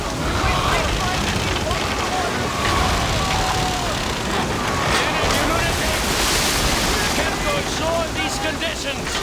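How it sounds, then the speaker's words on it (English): Ocean surf crashes continuously in a stormy sea scene from the King Kong video game, with loud churning waves and wind roaring throughout, while faint shouted voices sit under the noise. "There's a 20-foot waves out there!"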